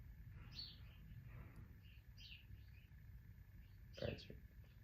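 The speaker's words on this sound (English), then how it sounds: "The birds are here." Faint morning birdsong outdoors: a few short, high chirps and tweets at a distance over a steady low background hum, with one louder burst near the end.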